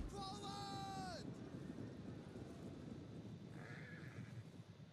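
A horse whinnies loudly in a Total War: Attila battle, a rising then falling neigh lasting about a second, followed by hoof clatter and distant battlefield noise with a second fainter horse call.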